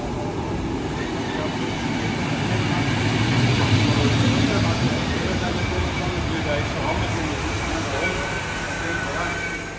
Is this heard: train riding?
yes